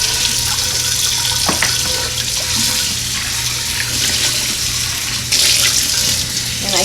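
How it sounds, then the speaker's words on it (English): Steady running water from a tap as a cast iron pan is scrubbed and rinsed in a sink, a continuous close splashing rush with faint scraping knocks and no talk. "I just scrub my pan just like you would scrub any other pan"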